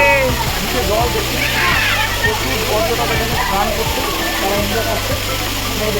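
Katika Waterfalls near Vizag roars in a loud, constant wash of falling and splashing water while people bathe nearby, with voices talking over the rush.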